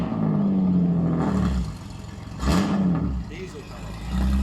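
A Jeep diesel engine revs loudly on a dyno, its steady drone rising and falling in surges with a brief dip before climbing again, with people talking over it.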